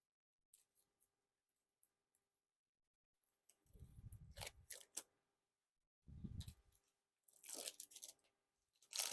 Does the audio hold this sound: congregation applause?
no